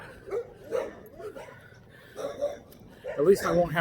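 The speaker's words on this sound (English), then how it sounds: "we'll get barked at by the neighborhood dogs a little bit" Neighborhood dogs bark in a few short bursts, mid-distance, through a vlogger's walk outdoors, with speech and movement noise overlapping and a louder flurry of yaps near the end.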